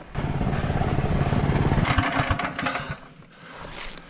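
A motorcycle engine running hard with its throttle jammed open, a loud steady roar at close range that rises and fluctuates before easing slightly toward the end.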